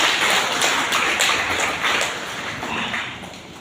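A church congregation claps together during a sermon, a loud, dense wash of hand claps that carries on steadily for a few seconds before easing a little.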